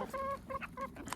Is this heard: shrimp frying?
no